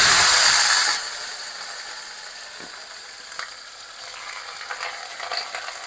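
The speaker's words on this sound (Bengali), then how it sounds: "হালকা করে ভাজা ভাজা করব।" Shukto vegetables hit hot oil with a loud burst of sizzling that settles into a quieter steady fry, with faint stirring clicks near the pan.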